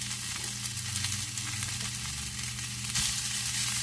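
Steak meat for fajitas frying in hot oil in a pan, a steady loud sizzle running throughout with light crackle and a brief burst near the end, no voices.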